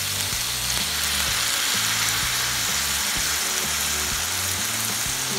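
Eggplant sizzles loudly and steadily in a hot pan as soy sauce is added, a dense, continuous frying hiss close up with no talking.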